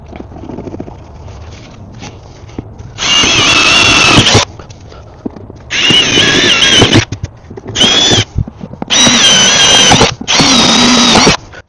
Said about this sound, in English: So I'm going to drill new holes, pre-drill with a cobalt bit that is made for stainless.